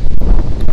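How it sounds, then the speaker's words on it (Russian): Strong wind buffets the microphone with a loud, low, continuous rumble and gusty roar. "Реально ветер очень сильный,"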